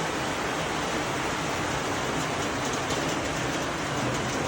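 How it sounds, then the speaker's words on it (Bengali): Heavy rain pours down during a storm in Alipurduar, a dense and steady roar that stays loud and unbroken from start to finish, with no voices over it. "এত জোরে বৃষ্টির আওয়াজ হচ্ছে"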